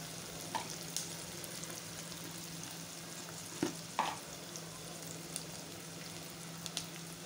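Chopped onion with a spoonful of salt sautés in a pressure cooker for prawn biryani, a steady close sizzle broken by a few sharp spoon taps against the metal.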